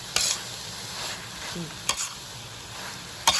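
A spatula scrapes sharply around a hot wok three times, spaced apart, over a soft steady sizzle of a dry frog curry with bamboo shoots frying.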